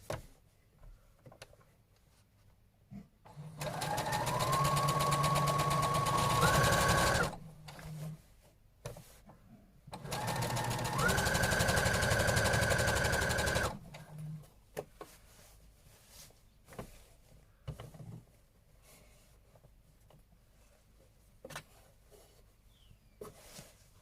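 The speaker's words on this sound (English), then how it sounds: "I'm going to understitch the lining so that it sits nice and flat." A sewing machine understitches the lining of homemade Valentine's Day pajamas, running in two steady bursts of several seconds each, whirring loudly with a rising motor pitch, separated by brief pauses and quiet handling.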